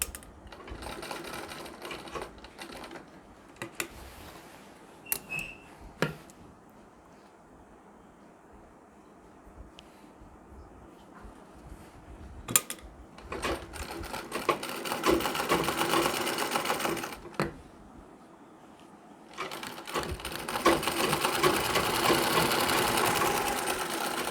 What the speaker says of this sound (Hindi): अब यहाँ पर भी हमें सिलाई लगा लेनी है